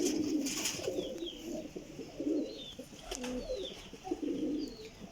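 Pigeons cooing close by, repeated soft throaty coos in short bursts with a few faint chirps and light background noise.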